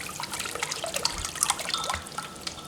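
A sterilized spoon stirs a batch of fermenting homemade grape wine, producing close wet sloshing, drips and light liquid splashes in uneven bursts.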